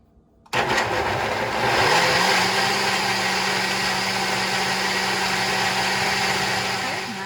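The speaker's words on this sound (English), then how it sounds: "And we're going to blend this up." A blender purées beans and water for escarole bean soup. The motor kicks on abruptly after a brief quiet moment and then runs loud and steady without pause.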